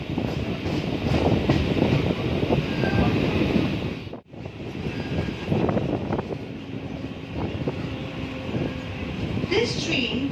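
A Chennai suburban train runs toward Pattabiram E Depot past the military siding, giving a steady rumbling rail roar with wind buffeting and a brief dip in the noise partway through.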